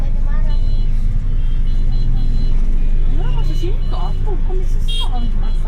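A jammed, crowded street in Kashmir, packed with cars and buses, gives a constant close rumble of idling and creeping engines, with voices talking nearby throughout.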